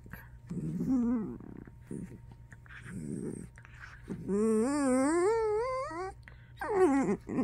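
Young dachshund puppies and an adult dachshund play-fight, with rising whimpers and whines, short growls and yips in close bursts, and a long wavering puppy cry in the middle.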